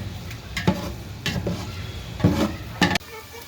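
Food frying in a pan for a Khepsa-style Arabian rice dish, stirred in several short scraping bursts over a steady low sizzle, close and moderately loud.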